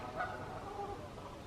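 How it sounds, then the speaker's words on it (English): Faint geese honking in the distance across a large, still lake in Wiltshire, England, a couple of brief nasal calls over quiet outdoor background. "I can hear the geese over there. Can you hear them? Goose fight."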